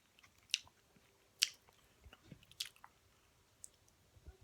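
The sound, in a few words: chewing crunchy honey butter biscuit chicken tender strips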